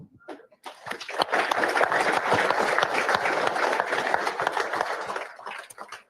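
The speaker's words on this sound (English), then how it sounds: "give yourselves a pat on the back, round of applause, everything" Audience applause at a safety meeting, a steady wash of many hands clapping that swells in quickly, holds for several seconds and tapers off at the end.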